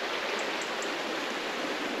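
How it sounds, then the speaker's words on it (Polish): A rushing mountain stream beside an asphalt road in a national park pours in a steady, loud, unbroken hiss of water, close and alone. "Ten szum potoku, posłuchajcie."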